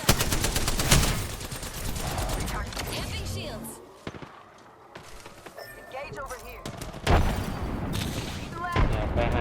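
Rapid automatic gunfire and heavy shots crackle through a battle royale video game fight, coming in dense bursts with a brief lull midway and a loud boom near the end, while a game voice calls out alerts.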